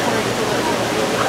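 Near the African penguin exhibit at Dallas Zoo, a waterfall pours with a constant broad splashing roar, loud and close throughout the brief stretch, with a faint murmur of voices mixed in.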